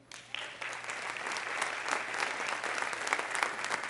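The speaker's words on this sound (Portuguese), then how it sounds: "Aplauda ao Senhor." A church congregation claps during a Sunday sermon, the applause starting abruptly and swelling into a steady, dense roar of many hands. It sounds slightly distant and moderately quiet.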